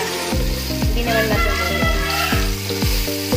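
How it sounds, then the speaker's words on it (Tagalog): Sliced onion sautéing in a pan for a Filipino pork steak dish, a steady loud sizzle with rhythmic scraping stirs at roughly half-second intervals, close up. "Ito na yung onion na sinlice ko kanina. Gigisahin natin to."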